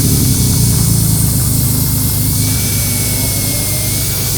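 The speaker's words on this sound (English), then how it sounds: "The angle grinder is perfect for this." Angle grinder with a polishing disc working on a Honda CBX1000 Moto Martin 6-into-1 motorcycle exhaust, giving a loud, steady whirring drone that runs unbroken from start to finish.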